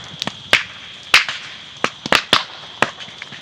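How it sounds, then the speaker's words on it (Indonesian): Bamboo stems bursting in a land-clearing fire, giving a string of sharp, irregular cracks and pops that are loud and close against a quiet background. "Jadi ledakan-ledakan dari pohon bambu."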